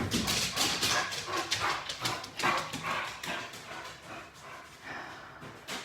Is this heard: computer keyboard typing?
no